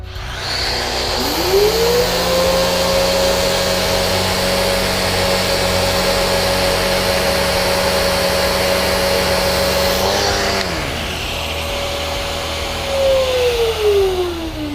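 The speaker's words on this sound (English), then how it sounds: "So I'm going to do the same spot over here, about the same length of time, in that grinder Rotex mode." A Festool RO 90 sander running in grinder Rotex mode, a loud steady motor whine that rises at spin-up, holds for several seconds, shifts in pitch under load, then winds down, close by and with no talk.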